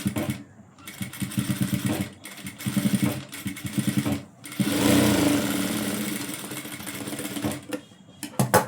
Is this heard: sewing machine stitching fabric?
yes